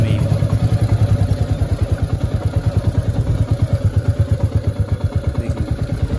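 A Royal Enfield Meteor 350 rides on a hill road near Nainital, its single-cylinder engine making a steady, rapid, even thumping at low revs, close and continuous throughout.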